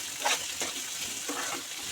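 Curry leaves and sliced onions frying in about three tablespoons of hot oil, a continuous crackling sizzle with brief scraping bursts as a spoon stirs the pan.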